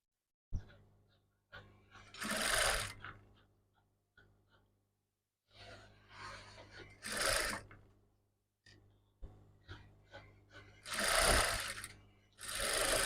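A sewing machine stitches down fabric on a bustier near a bra cup, running in three separate bursts of rapid mechanical whirring with short quiet gaps and handling noises between them.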